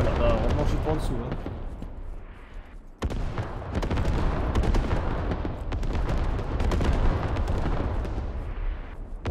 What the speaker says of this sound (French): Regardez-moi ces explosions avec l'onde de choc et tout.